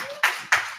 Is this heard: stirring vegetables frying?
no